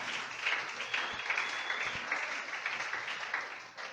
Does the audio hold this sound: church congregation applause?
yes